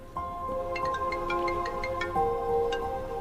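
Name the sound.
mobile phone ringing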